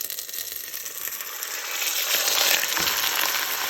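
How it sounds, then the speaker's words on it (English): Chuck roast searing in hot olive oil, a steady loud sizzle and crackle that swells slightly toward the end, close and continuous with no talk. "You want to sear it really good in some hot olive oil"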